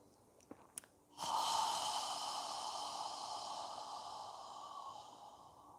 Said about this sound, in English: Inhaling through your nose, exhaling through your mouth.